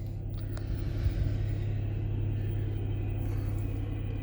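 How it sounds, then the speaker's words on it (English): A 2022 Ford Bronco Sport Big Bend 4X4 with 639 miles idles with a steady, low engine rumble just after a push-button start, close by and continuous with no talking. "will start up by just hitting the brake and hitting that engine start-stop button"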